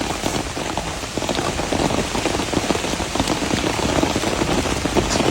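Heavy rain falling at a creek, a dense continuous patter of drops striking water and surfaces, close and steady with no voices.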